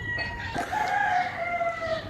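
A rooster crows one long cock-a-doodle-doo in a village in the early morning, loud and fairly close, and other fowl cluck softly in the background.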